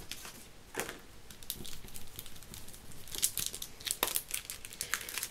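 Glued paper cut-outs for a wedding card slowly peeled off a plastic sheet, a close run of soft crinkling and light tearing crackles in irregular bursts, with no talking.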